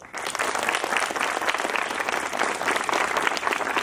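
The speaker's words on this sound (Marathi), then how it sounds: "या तुमच्या पालकांसाठी टाळ्या वाजवा" An audience at a police pre-recruitment training farewell ceremony breaks into sustained applause for the parents, dense steady clapping from a large crowd, close and loud throughout.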